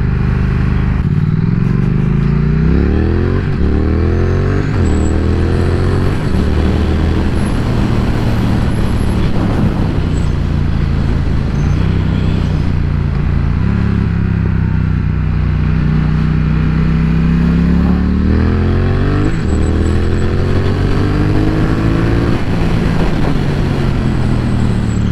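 A Triumph Thruxton R motorcycle engine rises and falls through repeated gear changes on a road shared with other cars, loud and close for the whole ride, with wind rush and clatter underneath.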